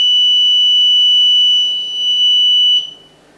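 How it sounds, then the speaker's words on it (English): A quadcopter's auto-retract landing gear warning buzzer sounds loud, continuous and high-pitched, dips slightly, then cuts off abruptly near the end, leaving quiet. "That's the warning buzzer."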